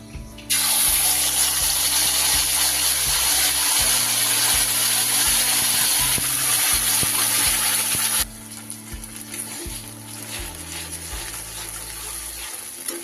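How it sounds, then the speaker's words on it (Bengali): Spice paste hitting hot oil with bay leaf and cumin in a pan for a cauliflower and paneer kofta curry, giving a loud, steady broadband sizzle that drops abruptly partway through and continues softer. "এবার আমি দিয়ে দেব সেই যে মশলাটা তৈরি করেছিলাম তার পেস্টটা"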